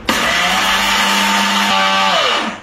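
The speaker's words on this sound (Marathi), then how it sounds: "हांगा मिक्सराक घालला लायक करून पावडर करूया." Loud, close whirring of a mixer grinder pulverizing roasted chana dal into powder, a steady high-pitched motor whine with a gritty rattle that runs about two seconds before the pitch drops as it winds down, with no talking.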